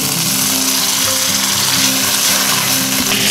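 Butter sizzling and frying in a hot 8-inch seasoned steel skillet, a loud close steady hiss with crackle filling the whole stretch, no voices.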